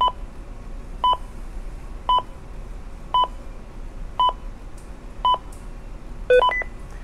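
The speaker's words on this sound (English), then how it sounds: "Once it's done beeping, we release the push to talk, and it'll first read out a series of numbers" Ritron JMX portable radio beeping during field programming: a series of short evenly spaced electronic beeps about once a second, ending with a quick cluster of rising tones, clear over a quiet hiss.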